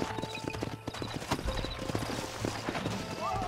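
Rapid, uneven clip-clop of several horses' hooves on hard ground in the video game Red Dead Redemption, loud and close, with low voices murmuring underneath.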